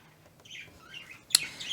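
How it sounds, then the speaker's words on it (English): Birds chirp and twitter in short high bursts, close and moderately loud, with one sharp call standing out near the end, against a quiet background hum. "These crazy birds."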